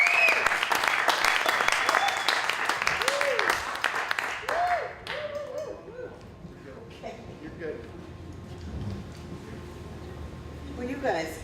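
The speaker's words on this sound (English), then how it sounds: "How about a huge round of applause for Kathleen Weber from Della Fattorina" An audience at a spoken word event applauds Kathleen Weber of Della Fattorina, with loud sustained clapping that gradually fades while a voice talks over it.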